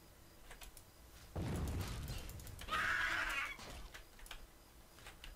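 A horse in the video game The Elder Scrolls IV: Oblivion lets out a short, fairly close whinny after a burst of rustling, movement-like noise, with quiet game ambience before and after.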